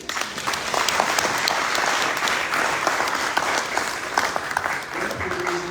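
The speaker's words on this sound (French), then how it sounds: "Applaudissons-le." A conference audience at a UNESCO African Week event for International Africa Day applauds a speaker, dense, even clapping from many hands that holds steady throughout.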